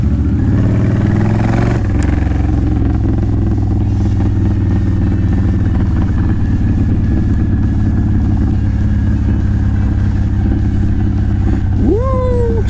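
A Honda Fury motorcycle with its pair valve deleted rides along with a loud, steady, throaty engine drone and wind rush, shifting pitch early on, with a brief rising whine near the end.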